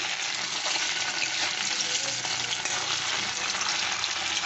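Cubes of paneer dusted in cornflour fry lightly in shallow oil, giving a steady, close hiss and sizzle with faint crackle that holds without break, no voices over it.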